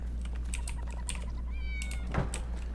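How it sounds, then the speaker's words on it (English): A cat in the video game Enshrouded gives a single short meow, rising and falling in pitch, over a steady hum of game ambience and light clicking. "Check on our cat."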